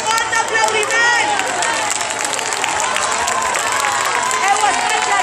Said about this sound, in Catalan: donar-vos les gràcies i un fort aplaudiment